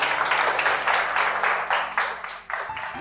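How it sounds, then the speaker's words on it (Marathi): Loud, sustained applause from a studio audience at an award ceremony in a Marathi television drama, a dense wash of many hands clapping that dips briefly near the end. "सो त्यांच्यासाठी एकदा जोरदार टाळ्या."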